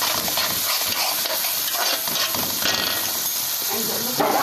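Onions stirred in oil with salt in a pan until wilted, with a steady soft sizzle and hiss and occasional scraping of the spoon, continuous and close.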